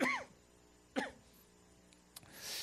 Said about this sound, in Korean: 왜 기침을 하죠?